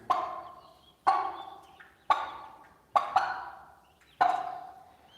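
A turkey with chicks gives five loud, close, evenly spaced calls about a second apart, each sharp at onset and trailing off, with no voices.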